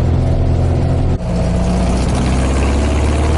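Tonella Fuskatia 22 car engine running steadily loud and close, with a brief dip in the tone about a third of the way through that sounds like a slight misfire while it revs.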